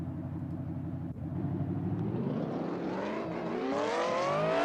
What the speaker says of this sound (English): Sounds like a V8 supercar on an IMSA prototype?